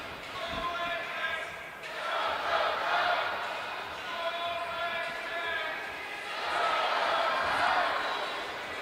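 Crowd at the 2014 men's world curling championship playoff between Norway and Canada cheering and chanting in rhythmic waves, swelling and fading several times with a loud voice among the fans, heard from a distance across the arena.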